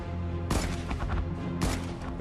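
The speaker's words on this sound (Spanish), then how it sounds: "El soldado James Thomas levanta su fusil automático Browning hacia la dirección de la que procedía el disparo del francotirador alemán y abre fuego." Browning automatic rifle fire rings out in two loud, close bursts of rapid shots with a harsh crack and booming tail, the second burst following about a second after the first.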